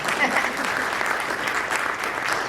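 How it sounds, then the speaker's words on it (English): A crowd claps through the mayor's State of the Town speech, a brisk, even burst of applause that stays loud and dense throughout, with voices murmuring faintly beneath it. "Yes, you may applaud."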